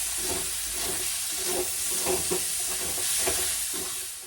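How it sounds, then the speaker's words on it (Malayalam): Maggi noodles with green chillies being stirred in a hot pan, soft scraping strokes repeating every half second or so over a constant sizzling hiss, close and fairly loud, with no talking. "ജസ്റ്റ് ഇളക്കി കൊടുക്കാം"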